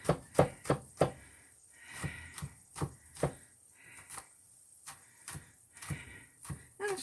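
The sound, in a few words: garlic being smashed and chopped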